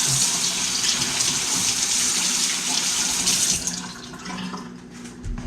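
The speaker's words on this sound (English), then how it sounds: "I'm going to rinse this whole thing off real quick." A knife is rinsed under a running tap, giving a steady, fairly loud rush of water that softens and thins toward the end.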